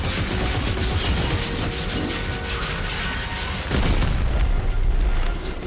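A missile fired and exploding in the game Dead Space 3: a dense, roaring blast with continuous rumbling and mechanical rattle, loud and close, swelling again midway.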